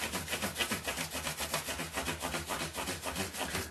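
Micro mesh pads rubbed quickly over a metal part of a left-handed Fender Jazz Bass, giving a close, rhythmic scratchy swishing in steady back-and-forth strokes, about seven per second, with no voices.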